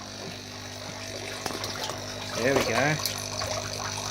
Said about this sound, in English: Getting a little bit of flow there, which should free up the drainage line and mean that the water drops here.